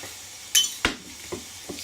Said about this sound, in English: Just hearing that sizzle now.